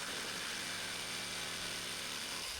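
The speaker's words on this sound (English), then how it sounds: "I'm just taking it nice and easy with a jigsaw there." A jigsaw cuts steadily through 4x2 timber, a continuous loud buzzing and rasping that stays even throughout before cutting off at the very end, with no talking.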